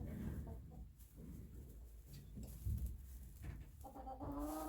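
Gray lavender Orpington hens cluck softly inside a coop, scattered low clucks and murmurs over a quiet background, with a clearer drawn-out call near the end.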